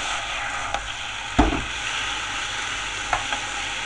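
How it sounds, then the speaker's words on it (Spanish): Marinated chicken with oregano, lemon juice, olive oil, salt and pepper sautéing in a pan, a loud steady sizzle with a few sharp stirring knocks. "Ahora vamos a saltear lo que es el pollo marinado, que lo hemos marinado con orégano, zumo de limón, aceite de oliva"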